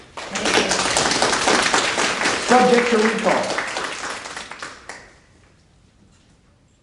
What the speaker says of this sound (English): give these two a big round of applause